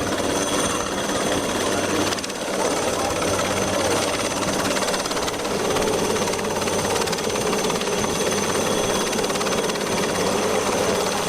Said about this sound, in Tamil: INS பருந்து ஹெலிகாப்டர் மூலம் சிறப்பு பயிற்சி.